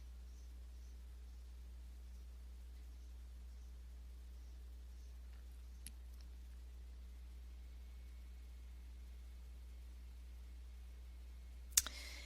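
A single sharp computer mouse click lands near the end, preceded by a faint tick, over a quiet steady electrical hum with no speech.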